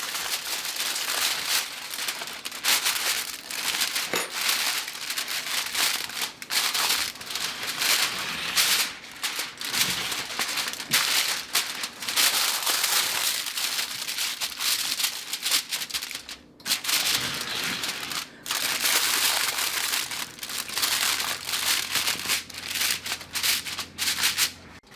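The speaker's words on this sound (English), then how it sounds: "I'm putting my aluminum foil over it." Aluminum foil, two pieces joined together, is crinkled and pressed over a baking dish of cheesy cabbage rolls, making a continuous close rustling and rubbing that runs throughout with brief pauses and no talking.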